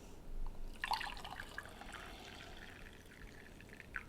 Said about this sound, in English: I'm going to pour it in the mug.